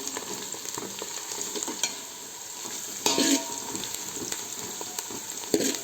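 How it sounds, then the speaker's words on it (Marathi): Onion fries in a pot as the base for sambar, an even sizzle with stirring scrapes and a couple of louder bursts, up close, no talk. "कांदा तळून घ्यायचा"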